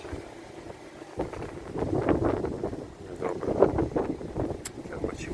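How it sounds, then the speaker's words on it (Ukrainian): Gusty wind at a car wash buffets the microphone with low, rumbling bursts that rise and fall; a voice is faintly audible underneath. "Ой, вітер тут так сквозь сквозняк."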